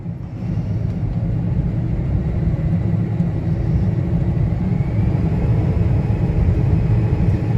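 A combine harvester's rotor and header run up to speed, producing a dense, steady low mechanical rumble close by that builds slightly as the throttle comes up.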